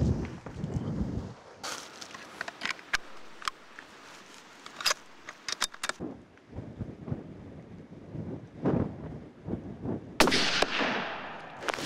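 Shotgun blasts fired at shooting targets outdoors on a windy day, several sharp loud reports spread irregularly across the stretch over steady wind buffeting the microphone.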